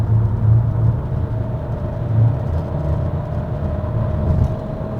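A Peugeot 3008 with the 1.2 PureTech engine accelerates under hard throttle, its loud, close, continuous engine drone and road rumble holding steady throughout without any voices.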